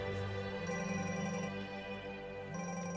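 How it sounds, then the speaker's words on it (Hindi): A mobile phone rings with a steady, repeating melodic ringtone in a film scene. It is faint and alone, with no talk. "दादा का फोन।"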